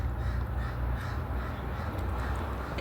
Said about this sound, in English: And I tell you, you hear the birds.